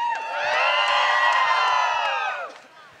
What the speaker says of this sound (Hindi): अपने लिए चिल्ला के दिखाइएगा। अपने लिए थोड़ा चिल्लाएंगे,